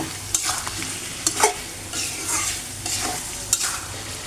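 Chicken with ground spices fries in a pan with a constant close sizzle, broken by several scraping stirs of a spoon against the metal; no voices.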